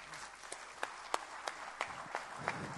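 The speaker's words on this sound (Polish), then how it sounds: "Proszę o brawa." Sparse, scattered clapping from a small audience at a Polish cultural festival stage event, individual claps spaced out at an uneven rhythm over low room noise.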